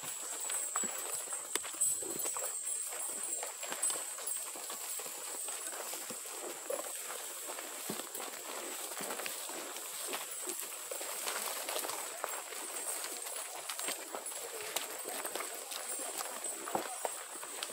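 Horse hooves clip-clop steadily during a trail ride up a steep climb in rural Sinaloa, Mexico, a continuous patter of light, fairly faint steps with rustling, over an outdoor high-pitched insect drone.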